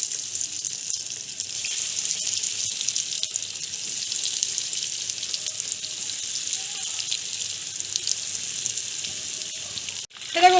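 Chicken momos fry in hot oil over a low flame, giving a steady, close crackling hiss throughout that ends in a sudden metallic clank.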